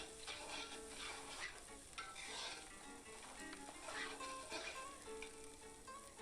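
Spiced vegetables with potato being stirred in a pan while cooking vegetarian khichuri, a steady sizzle with soft scraping of the spoon running throughout at moderate level, no voices.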